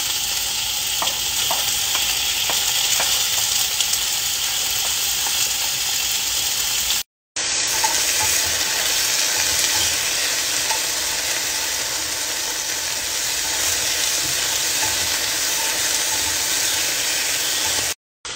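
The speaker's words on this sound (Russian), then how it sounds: "Первым делом я всегда обжариваю что-то мясное, потому что это должно прожариться хорошо." Finely diced chicken fillet frying over high heat in a pan as the first ingredient, before carrot is added, a steady loud sizzle with occasional stirring scrapes, continuous apart from one brief cut, no voices.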